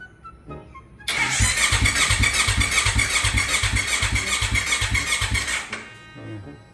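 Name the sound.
Kawasaki Ninja 250 Fi motorcycle engine cranking, failing to start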